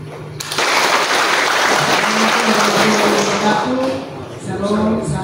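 An audience claps steadily at the official opening of a water rescue training session in Maumere. The applause is close and continuous, with a voice speaking over it.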